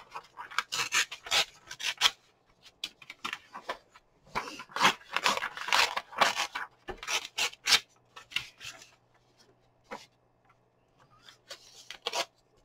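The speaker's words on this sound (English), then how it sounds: "Don't you love the sound of paper tearing?" Sheets of textured craft paper tearing in a quiet room, a series of short rasping rips in bursts with brief pauses, up close and fairly loud, no talking.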